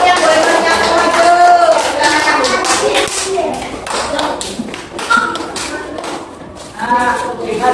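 Schoolchildren in a classroom clap their hands together in quick, uneven bursts, close and loud, with young voices and chatter mixed in throughout.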